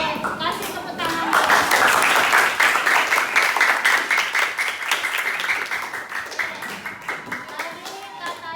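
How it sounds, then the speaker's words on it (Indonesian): A class of students gives steady applause for several seconds, dense and fairly loud, tapering off toward the end. "Oke, kasih tepuk tangan"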